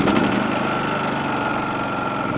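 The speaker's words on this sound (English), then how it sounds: "That's what's great about this generator. It's very quiet and great for all applications." A CAT INV4000 E inverter generator runs steadily nearby with a low, even engine hum and faint mechanical vibration, holding constant throughout with no voices over it.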